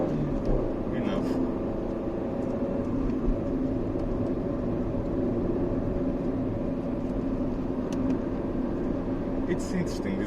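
A Rover 400 hatchback driving on the road, with a steady engine and road-noise drone heard from inside the cabin, continuous at a moderate level, while people talk over it.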